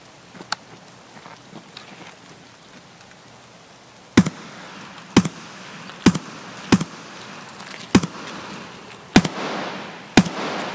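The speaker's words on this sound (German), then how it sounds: "Oh, einer, wir werden beschossen." Sparse single gunshots in the online shooter Escape from Tarkov, seven sharp cracks spaced about a second apart after a quiet stretch, fairly close and loud over low background rumble.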